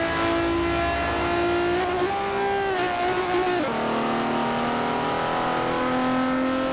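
Game engine of a 723 Quartz Regalia Type-D monster truck in Forza Horizon 4 revs loud and continuous, pitch climbing then dropping sharply at a gear shift around the middle before rising again, with no talk.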